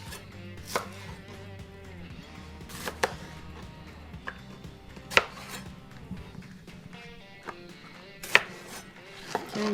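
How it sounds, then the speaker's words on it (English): A knife chops large jalapeño peppers on a cutting board with a steady run of close, crisp cuts and several sharper, louder knocks spread across the clip. "I will chop 3 large jalapenos too."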